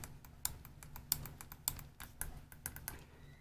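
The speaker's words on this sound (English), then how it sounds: "Nice clicky buttons." Crisp plastic clicks from the buttons of a Think Vape Panzer DNA200 vape mod, about a dozen quick presses in an uneven rhythm, close and fairly quiet with nothing else behind them.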